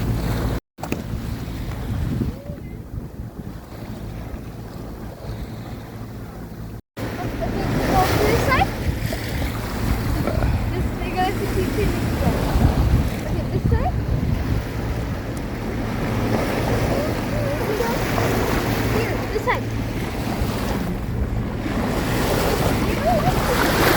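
A sailboat under wind crossing a bay near A Coruña, with constant wind buffeting and the wash of waves against the hull, a steady close roar throughout.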